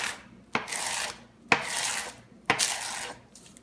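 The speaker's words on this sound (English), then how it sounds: "I just use the tip of my knife to cut it" A knife tip slicing through a dry sheet of nori seaweed into one-inch strips on a cutting board: three sharp crisp onsets about a second apart, each followed by a raspy scraping drag, close and fairly loud with no talk.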